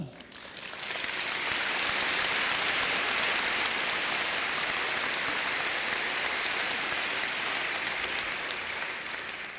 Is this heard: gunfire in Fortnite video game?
no